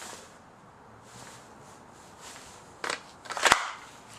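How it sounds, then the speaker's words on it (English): An FMP 9 pistol snaps into a locking holster, a faint rustle and then a sharp, loud click close up near the end, alone without speech. "you can tell it's in with that nice loud click"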